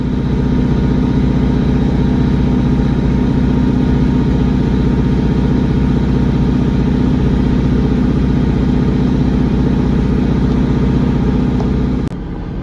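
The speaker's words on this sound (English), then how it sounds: "We can clearly hear the engine idling noises, which are also present on electric trains, but way quieter." A Class 150 diesel multiple unit idles at Millbrook station with a steady, loud low rumble and throbbing engine drone that holds constant for about twelve seconds before dropping away abruptly.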